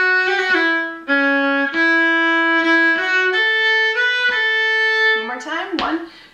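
A fiddle in cross tuning plays an old-time tune, the Booth Shot Lincoln phrase, with clear bowed notes and double stops in a steady rhythm of distinct strokes, near and loud, with no talk.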